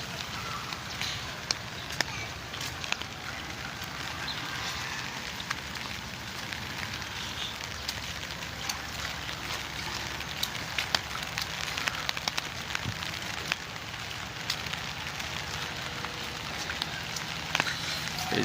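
Steady rain pattering on a rooftop, a continuous even hiss with scattered drops close by and a low background rumble, with no voices.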